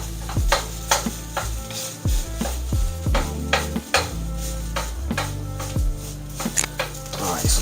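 Shrimp fried rice sizzles steadily in a pan while a utensil stirs and scrapes it in quick repeated knocks and clatters, with a constant frying hiss underneath.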